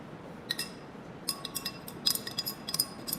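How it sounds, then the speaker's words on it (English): Spoons stirring liquid in glasses during a science class, giving a quick series of light, bright clinks against the glass, irregular and close, over faint background noise. "Let's give them a stir."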